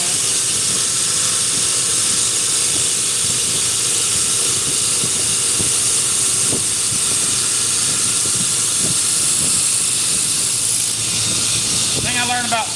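A knife blade is ground on a 36 grit abrasive belt, making a loud, continuous hissing roar. It holds steady the whole time, with brief scraping variations near the end.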